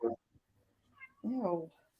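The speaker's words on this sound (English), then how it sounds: "Cat." Cat meowing twice: a short meow at the start, then a longer, rising-and-falling drawn-out meow a second later, close and clear against a quiet background.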